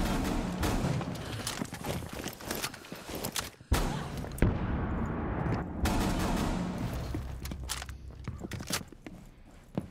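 Bursts of gunfire in Rainbow Six Siege on the Oregon map, sharp repeated shots and rapid volleys scattered across several seconds with quieter gaps and footsteps between, fairly close and loud.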